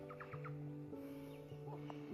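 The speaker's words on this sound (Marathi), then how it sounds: "रान कोंबडी असतात ना, रानातली भरपूर आहेत भरपूर आहेत" Wild jungle fowl cluck in a garden of cashew trees, a few close, fairly quiet calls in short bursts with no one speaking.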